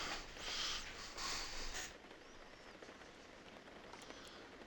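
Rain in a sim racing game at the Suzuka circuit, heard as a faint, continuous hiss of falling rain with a few soft, brief splashy bursts near the start.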